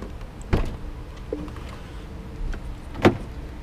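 A Lamborghini Huracan Performante door is handled as someone gets into the car: a soft thud early, a small mechanical whir, then a firmer door clunk near the end, all close and quiet with no talking.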